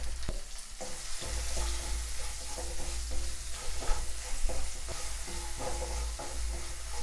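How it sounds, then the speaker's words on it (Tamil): Shallots, garlic and drumstick pieces sauté in oil in a pan for a prawn and squid omam theeyal, giving a soft continuous sizzle with occasional stirring scrapes and clicks, close and fairly quiet. "அது கொஞ்ச நேரம் எண்ணெயிலே வதங்கட்டும்."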